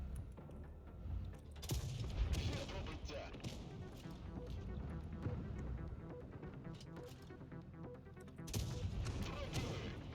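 Tank guns firing in the mobile game World of Tanks Blitz, with a Bretagne Panther in play: repeated booming shots and thuds over a dense battle din, with a louder burst near the end, and someone talking throughout.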